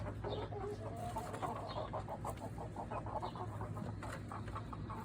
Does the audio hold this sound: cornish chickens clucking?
yes